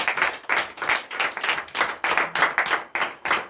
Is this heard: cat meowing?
no